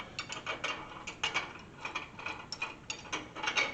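A double flaring tool is cranked down on a brake line, giving a fast, close, steady run of ratcheting clicks with brief pauses, with no talk.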